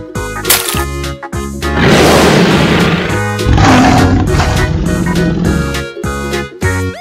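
A deep, growling stegosaurus roar swells and rumbles for several seconds, framed by short tonal musical hits and sharp cracks.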